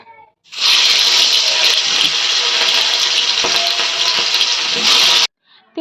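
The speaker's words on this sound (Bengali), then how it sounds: "এদিকে মাছ ভাজা মাছ ভাজা বসিয়ে দিয়েছি" Hilsa fish sizzles in hot oil in a home kitchen. A loud, steady hiss breaks out suddenly as the fish goes in and holds for several seconds before cutting off abruptly.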